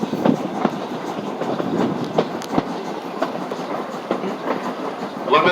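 Strasburg Railroad passenger train running through farmland, with a steady rolling rumble and repeated clickety-clack wheel beats heard from on board.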